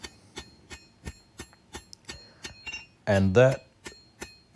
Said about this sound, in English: steel is blistering hot. And it's extremely tough to move even with that 4-pound hammer.